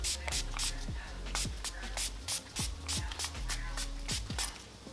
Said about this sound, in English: I'm gonna spray my face with a little bit of setting spray